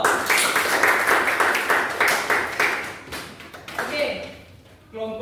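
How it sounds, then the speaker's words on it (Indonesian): A class of students claps together in a fast, even rhythm of sharp claps that carries for several seconds and then tapers off into a few scattered claps, with voices cheering and talking over it. "Kasih aplaus dulu dong."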